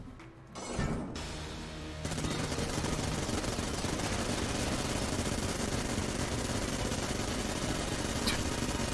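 In the video game Enter the Gungeon, a Vulcan cannon opens up after a brief quiet moment, then pours out a continuous, loud roar of rapid fire that lasts to the end.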